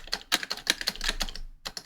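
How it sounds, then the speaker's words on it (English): Fingers tap a PC computer keyboard in a quick, close burst of plastic key clicks, a short pause, then a couple more presses. "and start typing here"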